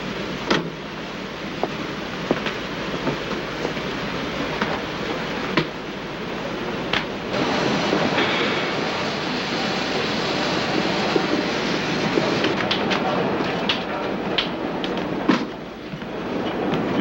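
A train pulls into a station on railway tracks at night, its steady rumble filling the scene with repeated clickety-clack wheel knocks and metallic clanks, loud and close throughout.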